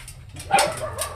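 Rescued puppies at a mushroom farm in Nhà Bè let out a short yip and bark, high and fairly close, amid light background noise and no clear talk.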